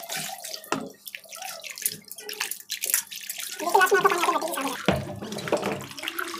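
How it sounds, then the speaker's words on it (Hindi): Raw fish is rinsed under a running kitchen tap, water splashing and gurgling in uneven bursts close by, with brief handling noises in between. "एक बार और धो लेती हूँ अच्छे से"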